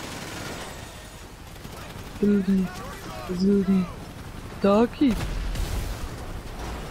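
Gunfire and explosions in the online mode of GTA V, a continuous rumbling battle din heard under excited German talk, with a heavy blast near the end.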